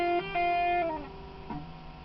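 Electric guitar with a slightly distorted, effected tone closes out a lick from a song: a few sustained bent notes ring and fade, followed by one final softer note, played alone.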